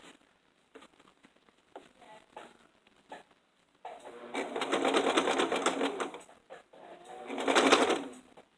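Sewing machine stitching the lining seam of a dress bodice, starting with short hesitant bursts and clicks, then running in two steady, close, fairly loud stretches of whirring stitches.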